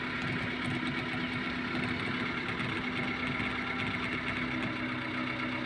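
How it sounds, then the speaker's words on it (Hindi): A car engine runs steadily at a low, even idle-like hum as the clutch is released, close and continuous with no talking. "और साउंड यहाँ पर गाड़ी के इंजन की साउंड"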